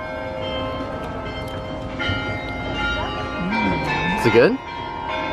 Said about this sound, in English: we can hear the church bells tolling in the distance.